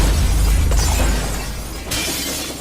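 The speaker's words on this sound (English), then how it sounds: "Caused the glass in the coaches to shatter and rock them side to side" A blast shockwave shatters glass in train coaches, heard as a loud sustained roar and rumble with a sharp second burst near the end.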